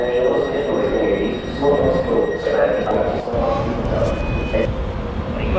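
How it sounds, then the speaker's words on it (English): A train stands at a station platform on the Budapest to Bratislava line, with a rumble and clanks under the hubbub of a crowd boarding. People talk throughout. "Managed to get off the train in time, just!"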